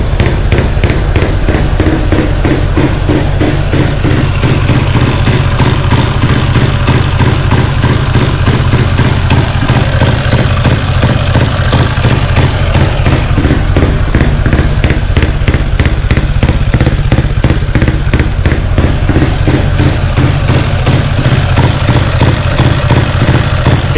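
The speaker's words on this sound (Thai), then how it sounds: "เดี๋ยวให้น้องจูนนะครับแล้วเรามาติดเครื่องกันมาฟังเสียงกันนะค รับ" Loud, steady idle of a Honda Wave motorcycle with a 66/3 4-valve tuned engine and a cracked crankcase cover, silencer fitted in the exhaust, chugging in an even low rhythm throughout, very close, no talking.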